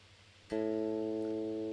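A single electric guitar note rings out sharply and sustains steadily, its tone dull and muffled with the tone knob rolling off the treble.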